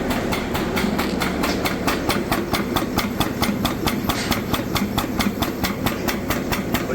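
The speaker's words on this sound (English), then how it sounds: "Pump's running." A pump runs steadily beside warm syrup during a spin seal demo, a loud rhythmic mechanical knocking that repeats at an even, rapid pace throughout, with no talking.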